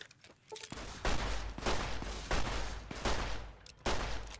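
Repeated loud gunshots in the video game Fallout: New Vegas, about half a dozen heavy reports in quick succession, close and alone without talk.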